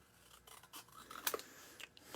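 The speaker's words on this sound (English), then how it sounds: "And the Real Red one is getting cut in half." Red cardstock is cut in half with scissors, giving faint, brief snips and a crisp crunch near the middle, close by with no talking.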